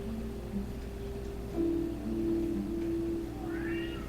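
A cat meows repeatedly in a quiet indoor room, its sustained tonal calls rising and falling close to the microphone over a steady low hum, with no talk.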